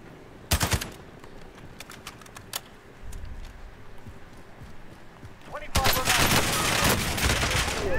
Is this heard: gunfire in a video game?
yes